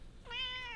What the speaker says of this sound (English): So go ahead and meow into the mic.